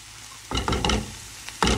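Green chilies drop into a hot frying pan with onion, coriander leaves and garlic, giving sharp bursts of sizzling and clattering as they land and are stirred, close and loud against a quiet background.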